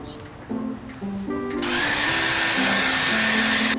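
A hair dryer switches on and blows steadily to dry hair, a close, loud whooshing roar under a soft background tone.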